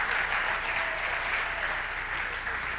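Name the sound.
audience applause for the parents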